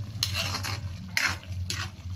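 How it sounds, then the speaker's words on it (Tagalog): Stirring a creamy pork and mushroom sauce in a pot, with several soft scraping sweeps of a utensil against the pot over a low simmering bubble, close and alone. "haluin na po natin"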